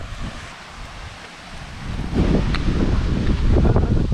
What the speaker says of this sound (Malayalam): നല്ല നല്ല കാറ്റാണ് കേട്ടോ നല്ല കാറ്റുള്ളതുകൊണ്ട് കത്തുന്നില്ല